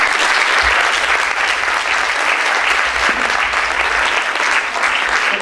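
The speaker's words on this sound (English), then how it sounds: "So give them a massive round of applause." A live audience at a student union Question Time panel evening applauds the panellists, with steady, dense clapping that fills the whole stretch at close range.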